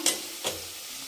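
Onion, tomato, green chilli, ginger and garlic fry in a pan for a tadka, with a soft, steady sizzle broken by two quick stirring scrapes, faint and close.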